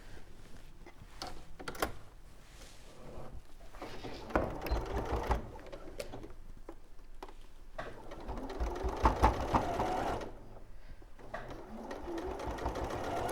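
Sewing machine stitching the side seam of a soft rabbit or lovebird toy, running in short bursts of rapid mechanical whirring with brief pauses between runs, fairly quiet and close, with no voices.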